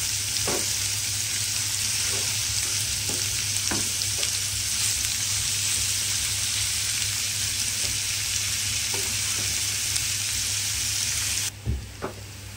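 Onions frying in a pan until soft, an even crackling sizzle with a low steady hum beneath and occasional soft clicks of stirring, no speech.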